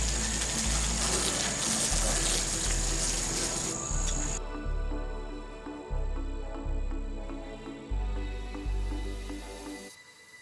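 Adam's Premium Foam Gun attached to a garden hose sprays soap in a steady, loud rushing gush, broken by a few short pauses and restarts.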